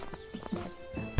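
Hooves of a winged horse clip-clop briefly as it is led toward a stable, a few soft steps in quick succession ending in a louder thump, with faint murmured voices around.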